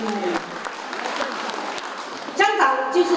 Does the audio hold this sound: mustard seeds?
no